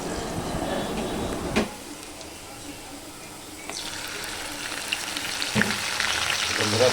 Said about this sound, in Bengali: আমি এই পেঁয়াজটাকে প্রথমে একটু ভেজে নিচ্ছি